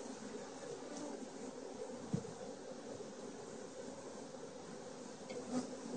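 Honey bees buzzing in an opened hive during a frame inspection, a low, constant, fairly faint hum close by, with an occasional light knock or rustle.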